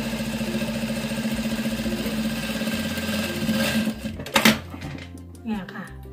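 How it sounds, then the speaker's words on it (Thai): A sewing machine stitches a strap for a running waist bag, a fast steady mechanical whirr that stops near the end, with someone talking over it. "เนี่ยเย็บตรงนี้เลยนะคะ"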